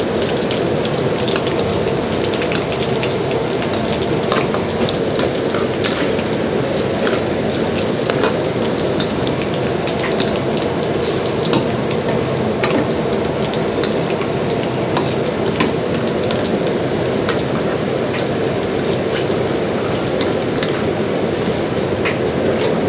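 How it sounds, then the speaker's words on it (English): Smashed garlic frying in oil for Thai khao tom rice breakfast, giving a steady, dense sizzle with fine crackling pops that holds evenly throughout, close and fairly loud with no talking. "Smash the garlic and then fry this one, and just a few minutes until turn to golden"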